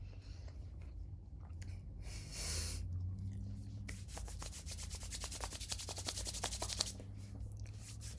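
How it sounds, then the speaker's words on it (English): Hands are rubbed together hard and fast, a close dry swishing friction that builds into quick, repeated rasping strokes, sounding loud and intimate with no talking over it. "Aggressive rubs hands."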